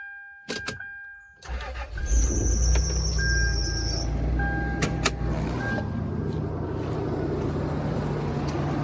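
A third-generation Toyota 4Runner engine cranks and starts, then settles into a steady low idle with a few clicks and ticks over the rumble, close by.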